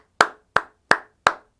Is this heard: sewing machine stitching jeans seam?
no